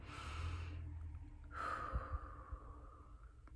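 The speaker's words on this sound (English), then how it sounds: "And one more deep breath in." A single deep breath drawn in, a soft airy inhalation followed by a longer exhale, close and quiet in a calm, hushed setting, with no talking.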